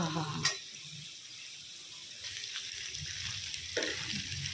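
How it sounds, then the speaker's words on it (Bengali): Potatoes frying in a pan before chopped onion goes in, a steady soft sizzle throughout with a few brief clinks and scrapes of stirring, close by and alone without talk. "তার আগে আলুটাকে আমি ভেজে নিচ্ছি"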